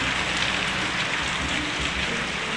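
Heavy rain pours down in a dense, steady roar of drops hitting surfaces, loud and close with no breaks and no voices.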